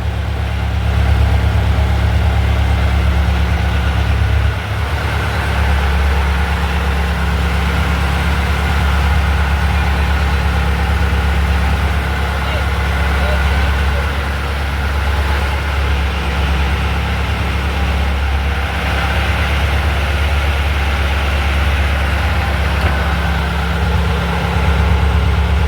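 A fishing boat's engine runs steadily throughout, a loud, continuous low-pitched idle rumble close by with no pauses and no talk over it.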